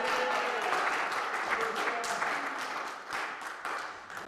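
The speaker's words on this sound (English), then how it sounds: "will we give Luca a bit of a cheer and a bit of an applause?" An audience at a Sunday church service applauds and cheers for Luca, a steady wash of clapping from many hands that fades slightly toward the end, with voices mixed in.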